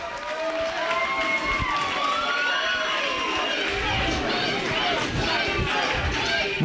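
A wrestling arena crowd roars and cheers steadily throughout a CM Punk versus Chris Hero tables and ladders match, with shouts and whistles rising above the dense noise.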